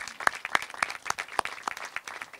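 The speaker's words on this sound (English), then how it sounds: "Please give these people a round of applause." Scattered applause from a small group at a Bancorp South company gathering: distinct, fairly sharp individual claps in an uneven rhythm, rather quiet and sparse.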